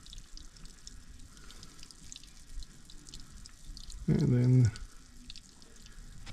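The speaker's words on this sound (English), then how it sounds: "I'm going to drain until I can fill this pan" Water drains from a tap into a pan in a short, loud, close gush lasting under a second, over a steady background hiss, with a brief spoken word before it.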